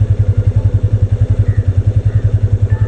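A motorcycle pulls away as the clutch is released, its engine close and loud with a fast, even, thumping pulse throughout.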